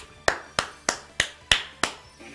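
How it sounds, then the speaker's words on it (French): Six slow, evenly spaced claps from a single person, crisp and close with silence between each. "Applaudissez-le"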